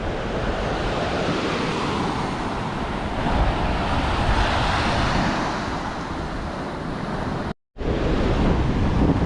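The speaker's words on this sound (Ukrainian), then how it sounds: "Тут дивіться такі хвилі." Sea waves break and wash onto a sandy beach in Jaffna, Sri Lanka, a loud continuous surf roar with wind buffeting the microphone and no talking.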